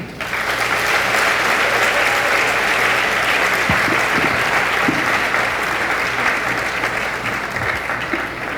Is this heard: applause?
yes